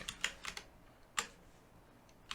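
Keys clatter on a computer keyboard in a quiet room: a quick cluster of taps, a pause, a single sharp keystroke, then a faint final click, close and crisp with no talking.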